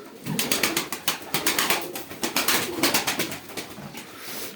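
Pigeons coo close by in a steady run of soft, rolling pulses, one call after another with little pause, with no people talking.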